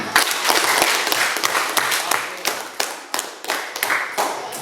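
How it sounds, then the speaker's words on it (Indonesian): Students in a classroom burst into hand clapping, a dense patter of many hands with a few rhythmic surges that gradually thins out near the end. "Oke, tepuk tangan."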